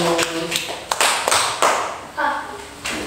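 Children in a classroom clap their hands in a few sharp, uneven bursts, with voices and a teacher's speech between the claps.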